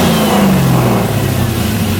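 An LC9 V8 engine swapped into an LS-swapped Miata revs loudly close by, its pitch sweeping down as it falls back from a high-rev blip, steady and dominant with no talk.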